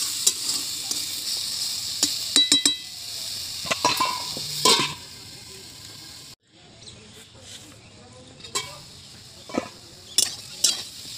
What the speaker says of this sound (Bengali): টমেটোটা এখানে একটু জাল দিয়ে একটু নরম করে নেব